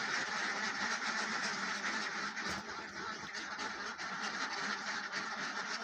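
A crowd of farm ducks, restless to be let out, quack in a dense, continuous chorus close by, the calls overlapping into a steady clamour.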